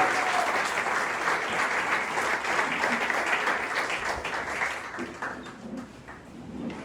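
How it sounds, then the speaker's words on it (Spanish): Church congregation applauding loudly and steadily, a dense wash of many hands clapping together that fades slightly toward the end. "Dígale ese fuerte aplauso."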